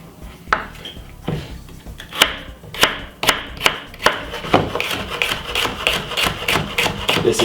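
A knife chops vegetables on a board for a king prawn salad. Sharp, separate cuts come first, then a quicker, steady chopping rhythm, loud and close with no talk.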